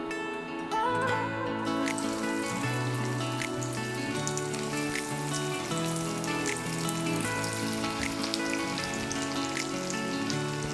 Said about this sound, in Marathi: तेल हे गरम झालेलं आहे, तर ते आता आपण फ्राय करूया